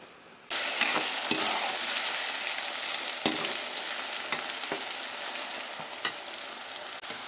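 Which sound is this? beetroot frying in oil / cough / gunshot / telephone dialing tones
beetroot frying in oil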